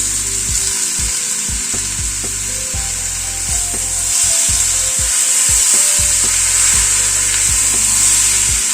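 Chopped tomatoes hit a hot pan of ginger and green chilli for an achari pumpkin dish, giving a loud, continuous sizzle broken by repeated knocking and scraping of a spatula as the mixture is stirred.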